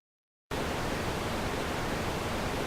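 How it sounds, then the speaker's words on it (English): Steady, loud hiss of static interference on a high-frequency radio transmission begins abruptly after a brief silence and continues unbroken as a dense wash of noise. "High-frequency transmissions suffer badly from static interference and are unpleasant to"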